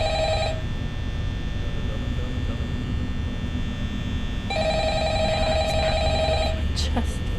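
A telephone in a video game rings during the night 3 phone call, two trilling rings separated by a pause of a few seconds, over a low electrical hum.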